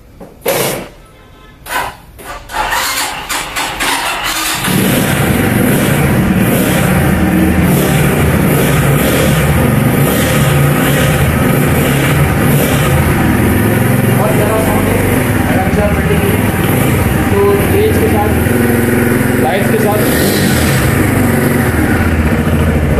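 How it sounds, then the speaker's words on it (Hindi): An Um Street 250cc sports motorcycle with its factory exhaust starts up after a few seconds of rattling, then settles into a loud, steady, close engine rumble that holds to the end. "लेट्स स्टार्ट द बाइक और आप लोग इसका साउंड सुनाते हैं और देखते हैं कि किस किस्म का साउंड है।"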